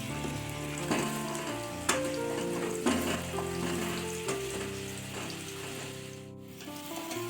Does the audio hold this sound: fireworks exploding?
no